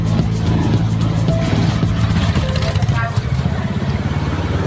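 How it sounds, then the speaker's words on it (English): Engine rumble of motorbikes moving along a busy street in Talad Noi, Bangkok, a drone rising and fading, with people talking in the background. "Some motorbikes come up and down, but that's no problem."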